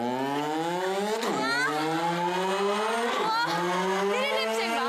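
A Pilipinas Got Talent contestant imitates car sounds with his voice, producing loud, continuous engine-like revving whose pitch sweeps up and down, with sharp skid-like swoops, and no other talk.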